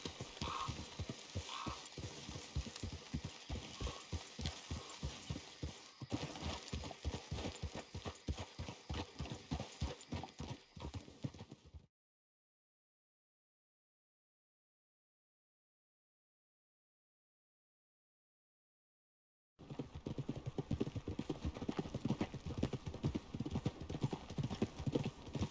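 Horse hooves clip-clop at a steady rhythmic trot in Red Dead Redemption 2, loud and close, with a long stretch of complete silence partway through before the hoofbeats resume.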